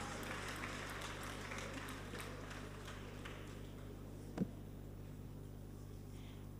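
Audience clapping for a speaker at a national cybercrime summit, strongest at the start and fading through the clip over a low hall hum, with a single sharp knock near the end.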